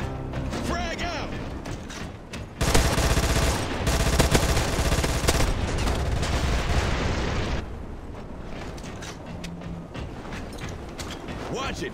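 Grenade explosion in the military shooter CrossfireX, a loud broadband blast with a rumbling tail lasting several seconds amid battlefield noise, with voices heard before and after.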